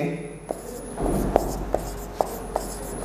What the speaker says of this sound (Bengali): তোমরা বোর্ডে দেখতে পাচ্ছ যে আমি এখানে লিখে রাখছি